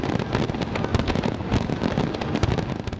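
Diwali fireworks and firecrackers going off continuously, a dense, loud barrage of overlapping bangs and crackles with no pauses.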